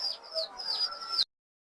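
Tame Giribaz pigeons give a few close, soft calls that rise and fall over a little over a second before the sound cuts off abruptly into silence.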